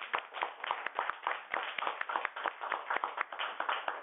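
Applause from a workshop audience: a modest room's worth of hands clapping in dense, uneven rhythm, fairly close and steady for the whole stretch, with no voices over it.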